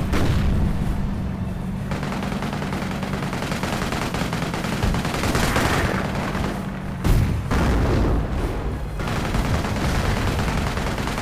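PIAT anti-tank weapons fire in a barrage in a Europe in Ruins Company of Heroes 3v3 battle, a chain of heavy thumps and booming explosions mixed with crackling small-arms fire, dense and continuous with no talk.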